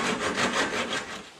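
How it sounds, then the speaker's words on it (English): A worn hacksaw cuts through a bolt on a snowblower auger housing caster with about six quick, even back-and-forth strokes, a close, raspy metal-on-metal rhythm with no voices. "So this old hacksaw did quite the job."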